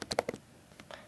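A short quick burst of clicks on a computer keyboard during a statistics worked example, a few crisp keystrokes close by followed by a fainter pair, with no talk.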